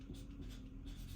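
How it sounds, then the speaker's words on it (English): Pen moving on paper by hand, a brief soft scratch of one or two strokes, close and faint with no talking. "So let me just write this down."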